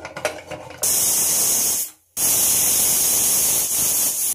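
Pressure cooker with chicken curry inside, giving loud steady jets of hissing steam as it whistles, close by, with one brief cut-off before the hiss resumes strongly.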